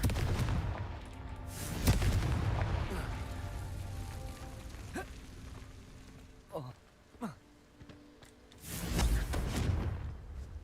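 Fiery Confringo spell explosions in the Hogwarts Legacy video game, with several loud booming blasts near the start and end and sharper cracks between, over a constant rumbling game background.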